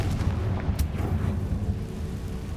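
A Confringo spell explodes in the Hogwarts Legacy video game, a short rumbling burst with a sharp crack near the start that fades into a low roar.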